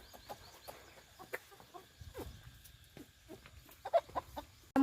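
Free-range village hens clucking in a gathered flock, scattered short clucks and calls at varying distances over a quiet outdoor background, with a louder burst toward the end.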